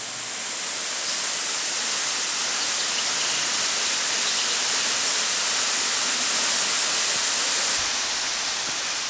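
The powerful Sambuyeon waterfall in Cheorwon, Gangwon, South Korea, roars continuously between rocky cliffs, a dense, steady rush of pouring water with no pauses and no voices.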